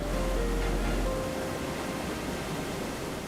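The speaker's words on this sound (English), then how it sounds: "The sound of rushing water and the mist rising from the falls." Rushing water from a waterfall in the Amazon rainforest, a dense, steady broadband roar, loud and continuous throughout with no voices.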